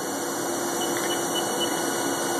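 A Haas VF-1 CNC milling machine spindle spins at speed, giving a steady, loud, even machine whine and hum with no change in level over a couple of seconds, no talking.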